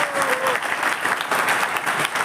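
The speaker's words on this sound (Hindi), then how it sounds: "हम तालियां बजा सकते हैं।" Steady applause from an audience at an education training seminar, dense and continuous across the whole stretch without a break.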